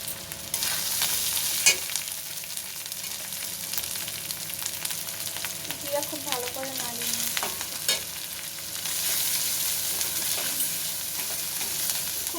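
Bengali spice masala with salt, turmeric and Kashmiri chili powder, cooked for a katla fish curry, fries with a continuous sizzle while a spoon stirs and scrapes the pan, with a couple of sharper knocks.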